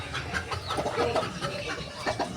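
A newly bought chicken, kept as a pet in the provinces, clucks repeatedly at close range in short, uneven bursts.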